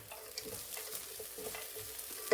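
Fried cashews, raisins and peanuts being stirred into rice flakes upma in a pan: soft, faint scraping and stirring with a light low sizzle, without talking.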